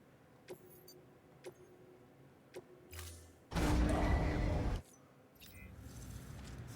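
A truck in the video game Death Stranding: Director's Cut gives a few sharp clicks and knocks, then a loud roaring burst and a lower steady engine rumble near the end.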